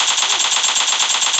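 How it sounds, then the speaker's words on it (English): Rapid automatic gunfire in PUBG on the Vikendi map, a loud, steady burst of evenly spaced shots filling the whole moment with no talking. "Whoa! Gunshots."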